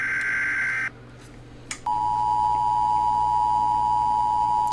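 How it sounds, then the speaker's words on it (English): A video game's Emergency Alert System warning: a shrill two-tone electronic beep, a short gap with a faint click, then a long steady high-pitched attention tone that holds loud and unbroken to the end. "Ooh, an EAS! I know that sound."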